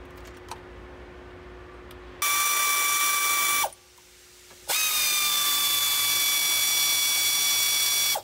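A ratchet snugs the hinge bolts on an ACE stand-alone tire carrier for a Jeep JL, giving two loud, fast clicking bursts separated by a short pause, close up with no talking.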